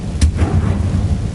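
A fire spell is cast in the Hogwarts Legacy video game: one sharp burst flares, then a dull, rumbling roar lingers low and steady to the end, like distant artillery or thunder.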